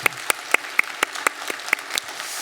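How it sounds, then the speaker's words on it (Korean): Scattered, sparse clapping from a small church congregation, with sharp individual claps spaced irregularly rather than a dense round of applause. "격려의 박수 한번 하도록 하겠습니다"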